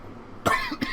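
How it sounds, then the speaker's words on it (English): A single sharp cough bursts out close up, followed by a smaller second hack. "That's like a nasty cough."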